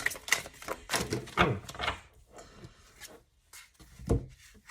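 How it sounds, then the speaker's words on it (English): A deck of cards being shuffled, quick close rustling and riffling in soft bursts with brief pauses, quiet and alone. "I'll go ahead and put them back and continue shuffling"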